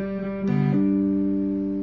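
A short electric guitar phrase: a sustained note followed by quick hammered-on notes ringing out clearly and alone.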